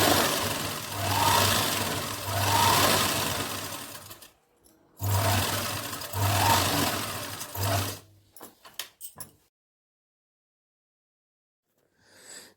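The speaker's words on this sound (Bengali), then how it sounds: "তারপরে এখানে আমি ডবল সেলাই দিয়ে দিলাম।" A sewing machine runs a double seam on palazzo pants in two steady, loud whirring bursts of about four seconds each, followed by a few light handling clicks and then quiet.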